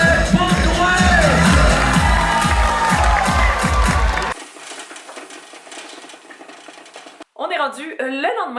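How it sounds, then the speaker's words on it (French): An audience at a touring comedy club show claps and cheers loudly for the host for about four seconds, with voices mixed in, before the sound cuts to quieter background noise and then speech. "un tonnerre d'applaudissements pour votre animateur, Mike Baudouin"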